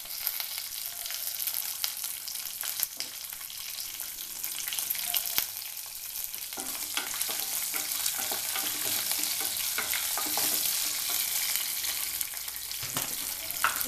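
Peeled, chopped garlic sizzles and fries in a hot pan while being stirred, a steady bright crackle with scattered scraping and clicking stirs throughout, close and alone with no talking.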